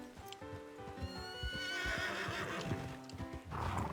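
Horse in the RedM game whinnying loudly and at length while hooves clip-clop in a quick, uneven rhythm underneath, close and clear with no speech.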